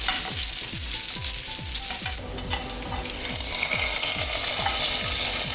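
Curry leaves crackle in hot oil with popping mustard seeds and small onions, a tempering for potato stew, with loud continuous frying and repeated rhythmic scraping strokes of stirring close by.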